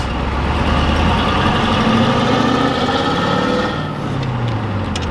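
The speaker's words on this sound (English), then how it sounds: "Sounds like a Cummins." A Cummins diesel truck engine fitted with a NASCAR-style exhaust idles loud and close, a steady rumbling drone with a faint clacking running through it, dipping slightly near the end.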